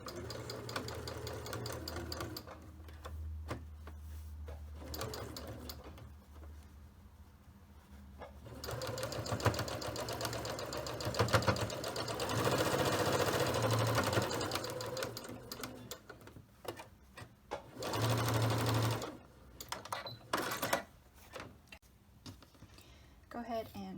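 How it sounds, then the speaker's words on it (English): A sewing machine stitches the seams of a fabric octagon 3D filter-pocket face mask, running in bursts of rapid mechanical whirring that stop and restart, with a person talking over much of it. "sew all the way down to this line and sew along the line."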